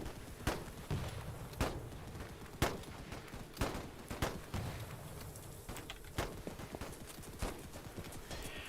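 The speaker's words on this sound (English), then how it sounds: "He's shooting at me." Gunfire in the World War One shooter Holdfast: Frontlines, a faint, sparse string of sharp cracks and thumps at uneven intervals over a low, busy battlefield background.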